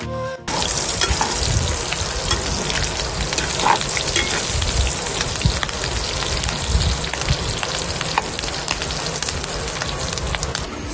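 Pork for Bicol Express frying and browning in a pan: a loud, dense, continuous crackling sizzle with constant popping spatter, close up and steady throughout.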